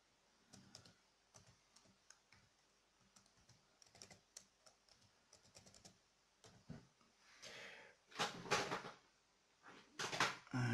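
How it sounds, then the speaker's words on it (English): Typing on a computer keyboard connected to a Raspberry Pi, heard as bursts of close, crisp key clicks in short irregular runs, turning to louder, denser clatter toward the end. "So I'll just type something again."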